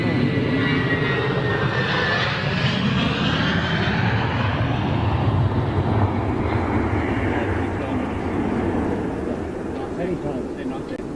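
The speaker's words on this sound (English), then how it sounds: "That's CS series. Yeah, Swiss. Lovely aircraft." A Swiss Airbus A220 jet airliner near Frankfurt fills the air with a loud, steady engine roar that slowly fades as it moves away.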